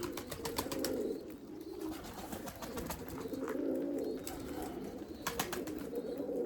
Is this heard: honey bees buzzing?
no